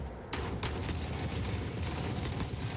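Shotgun fire in the Forever Winter video game, a sudden loud blast followed by a quick second shot and a dense, rumbling roar of combat noise that carries on without a break.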